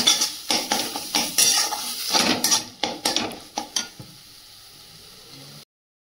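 A curry, cooked without added water, is stirred in a metal pot: a brisk run of clanking spoon-on-pot hits over a soft sizzle, close and fairly loud, then the sound stops abruptly into silence.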